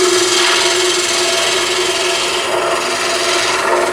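A U-shaped roughing gouge rubs its bevel as it slides along a wooden tool handle spinning on a lathe, giving a steady, loud, continuous scraping rasp with no pauses.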